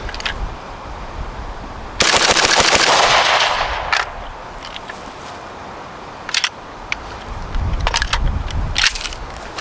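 Rifle shots fired outdoors through a tunable 24x1.5mm muzzle brake: one loud, sharp blast with a long ringing decay, followed by several quieter sharp cracks and clicks spaced over the next few seconds.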